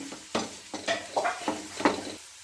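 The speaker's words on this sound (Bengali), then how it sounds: "এবার এটাকে ভালোভাবে মিশিয়ে নেব।" A spoon scrapes and stirs garam masala, coriander, chili and turmeric powders with soy sauce and ginger-garlic paste in a pan, five or six distinct close scraping strokes with a faint sizzle underneath.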